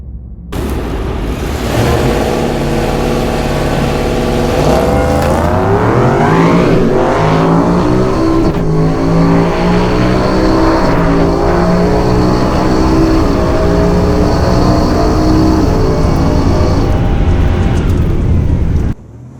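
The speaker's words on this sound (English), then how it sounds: "So burnout is still a bit of an issue with this truck" A truck engine revs hard through a burnout, loud and continuous, its pitch sweeping up and holding high with rising harmonic whine for nearly twenty seconds before cutting off abruptly.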